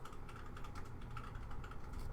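Steady, rapid clacking of a computer keyboard being typed on, fairly quiet with a low background rumble underneath.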